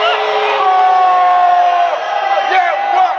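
A large crowd at a professional wrestling show boos and jeers two disliked wrestlers, a loud, continuous wall of voices with rising and falling shouts throughout.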